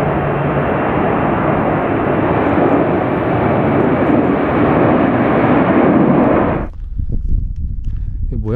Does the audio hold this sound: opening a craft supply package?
no